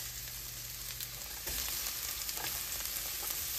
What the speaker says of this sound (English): Our pan is hot now. We've got our olive oil in there. Let's add our onions.